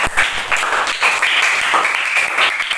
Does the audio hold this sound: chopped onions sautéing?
no